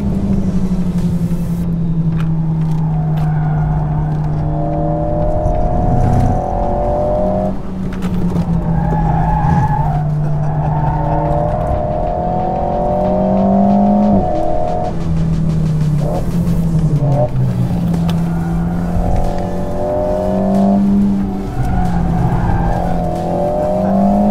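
Alpine A110 sports car driven hard around a race circuit at a Paris rally event, engine droning loud and close with repeated tire squeals as the car slides through corners, continuous throughout.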